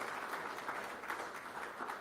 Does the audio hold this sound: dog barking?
no